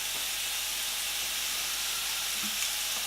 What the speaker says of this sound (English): You should hear the sizzle,